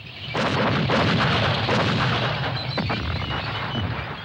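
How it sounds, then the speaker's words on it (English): A war-documentary artillery barrage rumbles continuously, loud and booming, with dense overlapping blasts and low thunder-like roar filling the whole stretch without voices. "An artillery barrage opens the attack."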